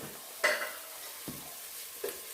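A spoon stirs turmeric and curry powder into matoke cooking in a pot, with soft scrapes and gentle sizzling, quiet and close, and no voices.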